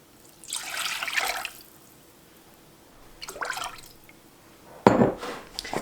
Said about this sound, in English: So I'm just gonna get a little more water